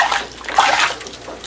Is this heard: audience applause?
no